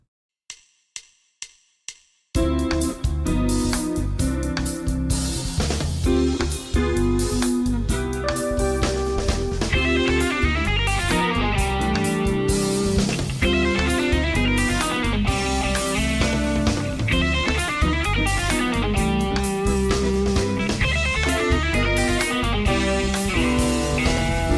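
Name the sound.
guitar playing fusion jazz lick 14 up to speed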